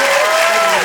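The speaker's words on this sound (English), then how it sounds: "please give a massive round of applause to Greg Jenner" Theatre audience at a live podcast recording applauds, a short dense wash of clapping close and loud, filling the whole moment without a break.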